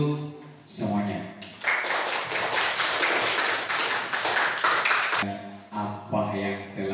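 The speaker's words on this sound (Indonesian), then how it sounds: "Tepuk tangan dulu semuanya." Students clap their hands together in a classroom, a dense burst of close clapping lasting several seconds, with speech before and after it.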